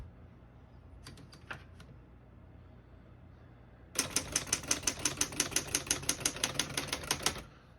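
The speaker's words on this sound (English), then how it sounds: "We're going to keep it on single and finish typing." A 1939 Woodstock vintage desktop typewriter types a steady run of about twenty crisp, evenly spaced key strikes close up, after a few scattered taps earlier.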